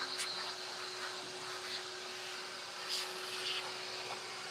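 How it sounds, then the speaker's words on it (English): A shop vac vacuums debris off a workbench, giving a steady, loud, continuous motor drone with a faint hum and airy suction hiss and no talking. "trusty shop vac and just vacuum this shit off before I fill it with more shit"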